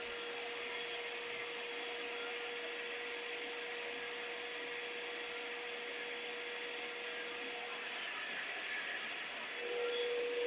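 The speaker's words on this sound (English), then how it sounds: "So it does sound like a vacuum cleaner." A snow machine runs steadily with a broad, even whirring hiss like a vacuum cleaner, holding a constant tone with no talk, and swelling slightly louder near the end.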